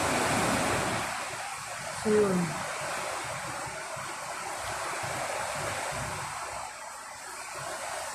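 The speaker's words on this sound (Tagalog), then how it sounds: "Tapos ngayon bumuhos yung napakalakas na ulan." Dense, roaring wash of heavy typhoon rain and gusting wind in the Philippines fills the air continuously, with a brief voice speaking under it.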